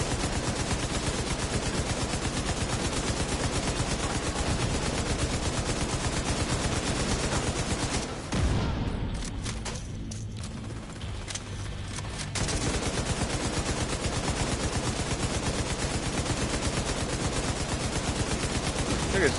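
Light machine gun fire in The Division video game, loud sustained automatic bursts that continue almost without pause, dropping out for a few seconds midway before resuming, with gunfire and battle noise filling the whole stretch.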